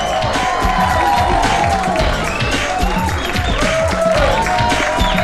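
Loud, dense crowd cheering mixed with clapping and excited shouts at a launch party in a Hindi film scene, continuous and close throughout.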